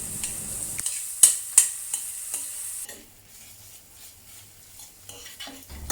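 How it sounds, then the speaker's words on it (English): Thinly sliced onion sautéing in mustard oil in a pan over medium heat, with a couple of sharp utensil clanks against the pan early on, then a quieter steady sizzle. "Add the thinly sliced onion and saute for about 5 minutes"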